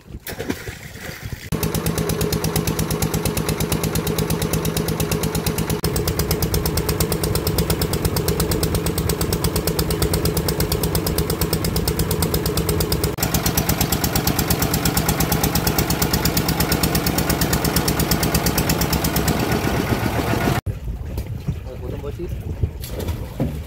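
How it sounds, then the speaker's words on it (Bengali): A motorboat engine drones steadily at close range on a fishing trip in the Sundarbans, a constant throbbing hum that holds for about twenty seconds, then cuts off abruptly near the end. "আমরা বেশ কিছু দূর বোট চালিয়ে আসলাম"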